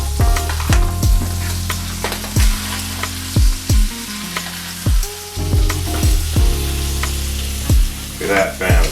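Salmon fillet frying in a pan gives a loud continuous sizzle, with sharp clanks and scrapes as it is flipped with a butter knife, in irregular bursts throughout.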